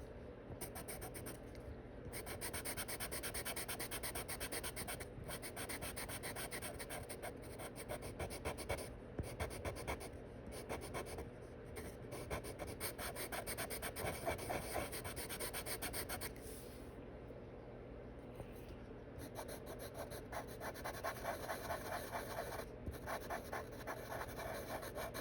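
Kalour soft pastel pencils swatched on paper, their tips scratching and rubbing in steady close strokes with short pauses between swatches, all continuous and fairly quiet with no talking.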